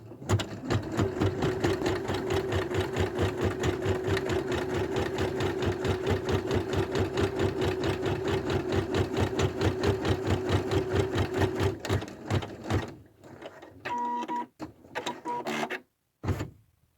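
An embroidery machine stitching a reverse appliqué design runs in a fast, steady rhythmic chatter for about twelve seconds, then slows into intermittent stops and short bursts.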